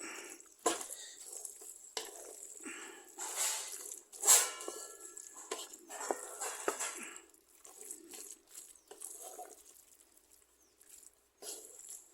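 Jackfruit and pork biryani being stirred in a pan after coconut oil goes in: irregular scraping and clinking of a spoon against metal, steady and close, with no talk.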